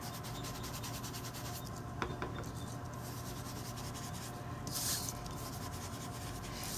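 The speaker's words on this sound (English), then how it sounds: "You're just going to sponge right around your edges." Ink is sponged around the edges of a stamped card, producing soft, continuous rubbing and dabbing strokes that stay close and quiet, with a couple of brief scratchier touches.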